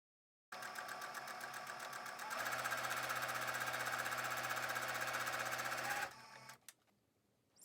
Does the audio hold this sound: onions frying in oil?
no